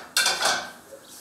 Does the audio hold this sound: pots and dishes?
yes